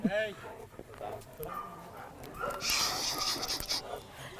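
A dog pants rapidly and steadily close by, with a brief voice calling out at the very start.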